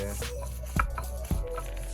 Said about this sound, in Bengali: দেখতে পাচ্ছেন রসুন বাটা হচ্ছে